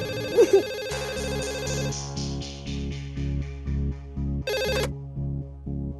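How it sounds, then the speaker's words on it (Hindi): A phone ringing with an electronic tune, a melodic ringtone cycling through repeated pulsing tones, moderately loud and alone with no talking. "फोन उठा, कब से बज रहा है"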